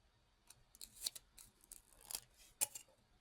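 Scissors snipping as a shape is cut out, a quick irregular series of crisp close snips and rustles with a few louder cuts, alone in a quiet room.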